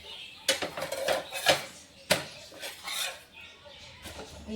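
A sweet potato holige set onto a tawa griddle, with a few sharp metallic clinks and scrapes of utensils against the pan, fairly close and moderately loud.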